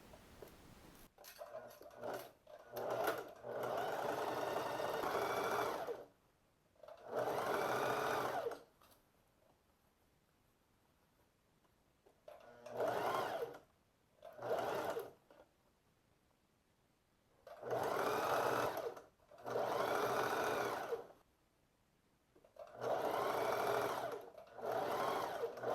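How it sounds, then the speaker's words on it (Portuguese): Sewing machine stitching a waistband onto pleated shorts, in several short bursts of rapid whirring separated by quiet pauses, close and fairly clear. "E agora já podemos costurar."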